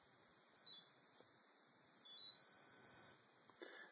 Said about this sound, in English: what you heard were various tones.